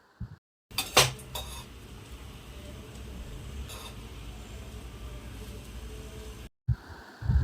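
Pan sounds at a heated kadhai: a couple of sharp metallic clinks, then a soft, steady hiss with occasional faint taps, fairly quiet and close, with a brief sudden knock near the end.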